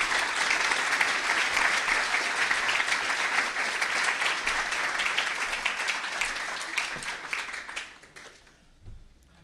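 A large lecture audience breaks into sustained applause to welcome the architect Richard Rogers, dense clapping that fills the room for several seconds before fading out near the end.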